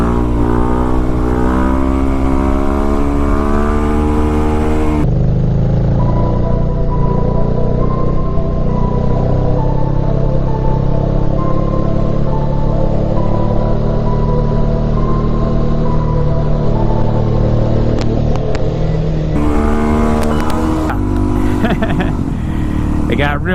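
Motorcycle engine of an FZ09 or DRZ400 during wheelies, a loud sustained drone with shifting pitch, an abrupt cut after a few seconds and rising revs again toward the end.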